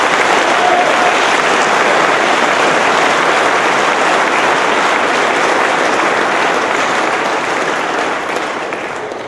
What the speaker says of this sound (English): Could you give these guys a round of applause?